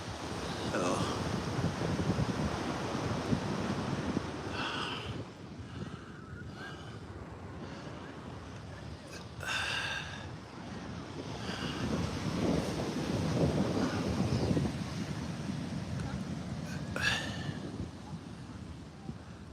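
Surf and wind at Venice Beach: a steady broadband roar of breaking waves with wind buffeting the microphone, swelling and easing over about twenty seconds, with no clear talk.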